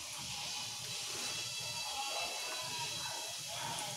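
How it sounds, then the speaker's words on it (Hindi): Cumin seeds crackle in hot cooking oil, making a steady, close, bright sizzling hiss that runs without a break from start to end. "हमारा तेल अभी गर्म हो गया है। अभी इसमें डालेंगे थोड़ा सा जीरा।"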